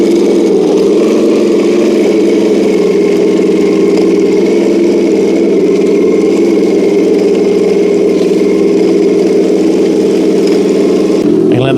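An RC King Tiger tank drives over rough terrain, its motor droning loudly and steadily for the whole stretch with a slight rise in pitch as it pushes along, close and unbroken.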